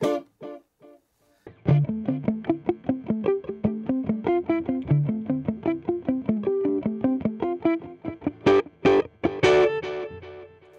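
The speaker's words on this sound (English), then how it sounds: "I'm going to check out this tape delay. Love a bit of tape echo." An electric guitar through a 50-watt practice amp with a tape delay effect plays a run of plucked, distorted notes whose echoes repeat behind each pick, with a few louder strums near the end and no talk.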